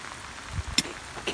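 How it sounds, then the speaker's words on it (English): Pouring rain falls on an outdoor job site where a Mercruiser Alpha sterndrive is being swapped on a boat. A steady, faint hiss carries a couple of sharp clicks and knocks. "In the pouring rain."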